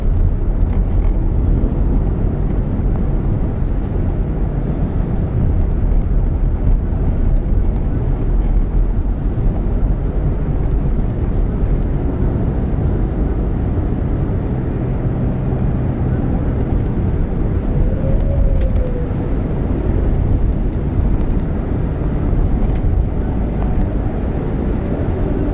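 Heavy trucks and cars on the Jakarta-Cikampek toll road make a continuous loud rumbling roar, close by and unbroken throughout with no voices.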